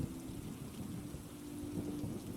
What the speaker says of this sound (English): As you listen to the rain